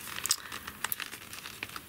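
Plastic packaging of a screens and dies card-making kit being opened, soft crinkling and small tearing rustles up close, quiet and irregular, with no talk.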